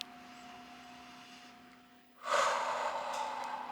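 A breath during a yoga/pilates hybrid exercise: a quiet stretch with a faint steady tone, then a sudden loud airy exhale that trails off slowly, close to the microphone.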